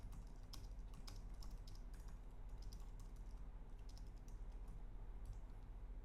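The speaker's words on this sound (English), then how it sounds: "I can just start typing" Rapid clicking of keys on a computer keyboard, steady and continuous, with a low hum running underneath.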